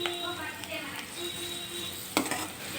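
A spoon stirs a garlic and chili powder mixture in a hot pan with steady sizzling and scraping, close and moderately loud, ending in one sharp clink of metal on the pan.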